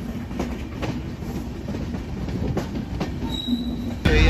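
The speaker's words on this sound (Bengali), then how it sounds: "তো এই হচ্ছে আমাদের ট্রেনের ইঞ্জিন," An Indian Railways locomotive hauling LHB coaches at a station platform, a loud continuous rumble and roar with metallic squeals and clanks, rhythmic wheel knocks, and a sharp burst near the end.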